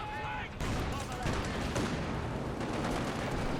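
Mortar rounds fire in a tank battle video game, a dense stream of booming gunfire and explosions running steadily throughout alongside other weapon fire, with a voice speaking over the barrage.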